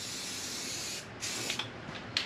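A spray gun hisses steadily while spraying primer on a 1957 Chevy convertible, a continuous close spray that breaks off briefly and resumes in shorter bursts.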